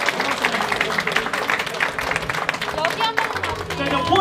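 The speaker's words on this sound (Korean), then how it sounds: "자, 박수 좀 부탁드립니다." A crowd at a church service claps and applauds steadily for several seconds, fairly close, with a few voices mixed in.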